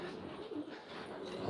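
Domestic pigeons cooing on a rooftop loft, faint soft coos over a low, muffled background.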